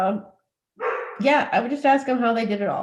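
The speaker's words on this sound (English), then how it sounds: "sorry for the dog in the background" A dog barks in the background of a home interview while a person keeps talking over it.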